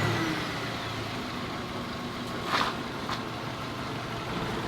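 An Audi car engine, just revived after a jump start from completely dead, runs at a steady, smooth idle close by, a constant low hum with no voices.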